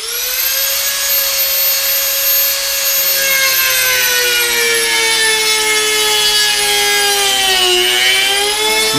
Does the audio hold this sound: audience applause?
no